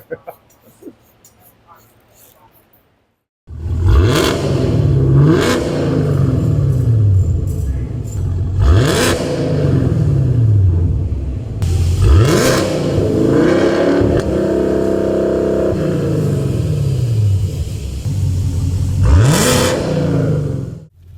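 A deep, loud Chevrolet Camaro ZL1 V8 with a Borla full exhaust and long-tube headers starts up on a dyno and repeatedly revs, rising and falling in several surges with a rumbling exhaust note, close and continuous.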